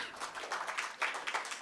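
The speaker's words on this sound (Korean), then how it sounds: "큰 박수 부탁드리겠습니다" An audience at a digital talent forum applauds a presenter after a talk, many hands clapping together in a moderate, slightly distant burst with uneven swells and no speech over it.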